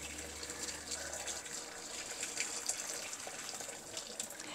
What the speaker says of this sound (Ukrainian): І тепер легесенько знову ллємо кипяточок.